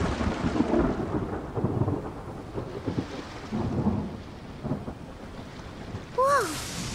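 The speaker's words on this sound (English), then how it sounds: "Where'd that thunder come from?" Thunder rolling through a rainstorm in the Genshin Impact video game: deep, heavy rumbles rising and falling over steady rain, with a brief sharp chime-like effect near the end.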